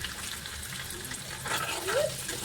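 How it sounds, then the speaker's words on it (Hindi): Sliced onions frying in a pan in a home kitchen, giving a soft, steady sizzle that swells briefly with stirring, close and moderately loud. "लो ये प्याज़ें भुनने वाली है मेरी"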